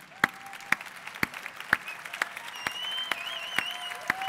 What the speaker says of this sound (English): Can all the judges please stand and take a big round of applause?